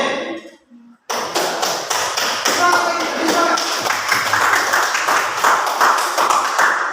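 A classroom group breaks into applause for presenting students, many hands clapping loudly and steadily after a brief quiet start, with voices mixed underneath.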